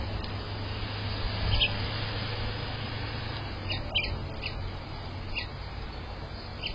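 A few short, faint house finch chirps and twittering notes scattered over steady background noise, somewhat distant.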